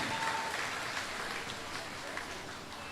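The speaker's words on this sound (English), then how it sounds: "Give her another round of applause" An audience at an award ceremony gives a round of applause, a steady wash of clapping heard at moderate distance through a short stretch.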